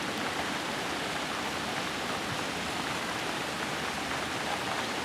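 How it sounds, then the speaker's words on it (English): Rain falls during a summer storm in Minnesota as a steady, even hiss of dense drops that continues unchanged for about five seconds, moderately loud with no voices. "I don't know if this camera is going to pick any of the rain up, but it is raining."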